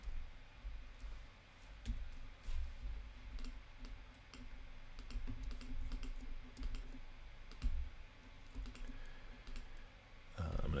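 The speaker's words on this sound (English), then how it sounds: "I'm going to type a message for" Quiet typing on a computer keyboard, scattered clusters of soft key clicks with pauses between, faint and close against low room hum.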